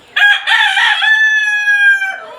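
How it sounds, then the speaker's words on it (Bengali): A single Tiger chicken rooster crow rings out loud and clear nearby on a poultry farm, a long sustained call with almost no background noise. "এখানে দেখতে পাচ্ছেন এগুলো হলো টাইগার মুরগি"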